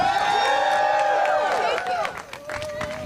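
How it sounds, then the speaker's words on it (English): A crowd at a rally to protect HUD applauds and cheers, loud and close at first with whoops over the clapping, then thinning out as a voice speaks over the fading noise. "Y'all give her a hand of applause."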